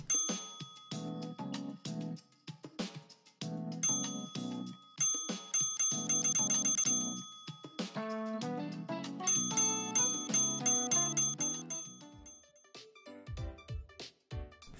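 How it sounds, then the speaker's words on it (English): A bright little bell in the VR game Bear Grills rings again and again in quick patterns over a busy, tinkling electronic tune, ending in a few scattered plucked notes. "There is also a bell. It doesn't do anything, but it makes a nice noise when you poke it."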